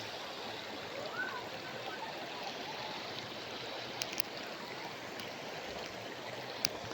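Waterfall at Kinaraha Falls in Caibiran, Biliran, a steady broadband rush of falling water filling the whole stretch, with a few faint clicks and no clear talk.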